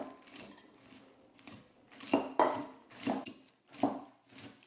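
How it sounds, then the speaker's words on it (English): Honey-coated popcorn for healthy Halloween popcorn bars is mashed and chopped in a bowl, a series of sharp crunchy thuds and crackles spaced irregularly, close and fairly quiet. "So keep mashing it and chopping it until all of the popcorn is coated"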